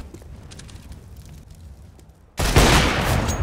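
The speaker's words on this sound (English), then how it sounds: "Throwing a grenade." A grenade detonates in a video game firefight. A sudden loud blast cuts in after a few quiet seconds of low rumble and faint clatter, then sustains as a dense, roaring wash to the end.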